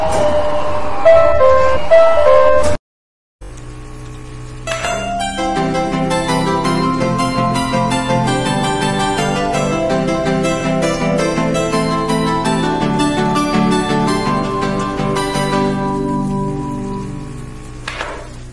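An electronic train departure melody chimes loudly at a station on the Takane Railway Takane Port Line. A short tune cuts off into a brief silence, then a longer, bright, bell-like melody plays steadily and fades at the end.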